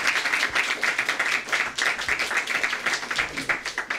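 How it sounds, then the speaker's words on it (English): Audience at a press conference gives a steady round of applause, dense overlapping clapping sustained for the whole stretch at moderate volume. "So if you wouldn't mind just giving the adults for putting students first a round of applause."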